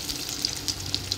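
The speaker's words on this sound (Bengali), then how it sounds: "এই যে পটল ভাজা হচ্ছে" Pointed gourd (potol) frying in a pan, a close, steady sizzle with faint crackles and pops, heard alone with no talk.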